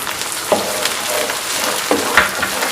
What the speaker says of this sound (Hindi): पिसा हुआ लहसुन अदरक हमने डाल दिए। इसको भी हमने भूनना है।